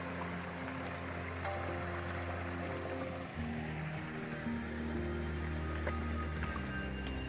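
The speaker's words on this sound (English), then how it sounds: "That's a cool little waterfall." A small waterfall beside a hiking trail between Big Spring Gap and Winding Stair Gap, a soft, steady rush of falling water heard from a short distance.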